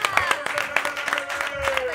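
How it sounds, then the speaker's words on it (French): A studio audience claps during a French entertainment show, a brisk patter of hands running throughout under a bright musical tone and a brief voice. "On a applaudi Charlotte Gabri"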